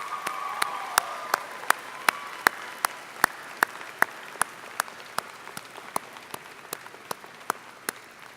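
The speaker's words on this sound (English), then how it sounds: "Graduates, I would ask that you provide a round of applause to all of those who have supported you." Graduates at a university convocation applaud in a large hall, a broad wash of clapping with distinct sharp claps punctuating it at a steady, near-regular pace.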